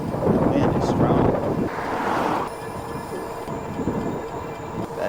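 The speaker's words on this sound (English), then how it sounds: "The wind is strong." Strong wind buffets the microphone as an Aventon e-bike rides along a road at about 22 mph, a steady loud broadband roar that eases slightly midway with faint background tones.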